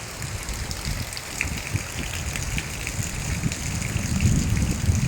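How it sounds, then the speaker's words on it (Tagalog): Heavy rain pours steadily outdoors in a lightning-struck area, a dense, continuous hiss of drops on surfaces with a low rushing undertone that swells slightly toward the end, with no voices. "malakas pa yung ulan mga kapatid"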